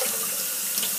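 Lukewarm to cool water runs steadily from a tap, wetting hair during a co-wash, a constant close hiss with no voices.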